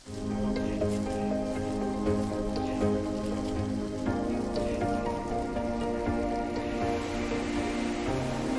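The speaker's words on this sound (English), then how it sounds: "Shall we get out of the rain?" Steady rain falls in the mountains of Kabardino-Balkaria, a continuous close patter and hiss on surfaces with scattered drips, with no voices.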